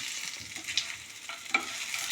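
Onions frying in a pan with salt, stirred with a few scraping strokes over a steady close sizzle, no voices.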